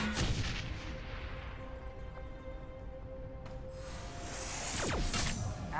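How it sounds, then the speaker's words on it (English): Grenade blasts in the Shadowrun: Hong Kong video game, a couple of loud booming bursts at the start and again near the end, with a rumbling, whooshing wash between them and no talk. "I'm just gonna keep lobbing grenades at you idiots"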